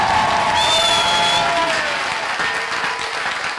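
A church congregation at a Wednesday worship service applauds and cheers the risen Christ, a dense, steady wash of clapping with a few high whistles and shouts rising above it, sustained and loud throughout.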